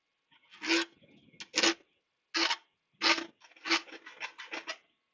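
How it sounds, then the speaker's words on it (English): A metal file rasps across the end of a BSA B50 motorcycle handlebar to cut a chamfer, six or seven short, crisp scraping strokes with brief pauses between them, the last few coming quicker together. "So I'm just going to file a little chamfer on there."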